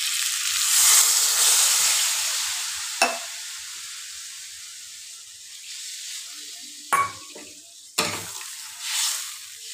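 Potato and pointed gourd sizzle in a pan with a bright, steady hiss that fades and swells, broken by a few sharp clacks of a utensil.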